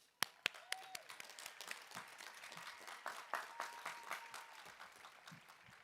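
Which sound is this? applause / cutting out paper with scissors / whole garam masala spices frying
applause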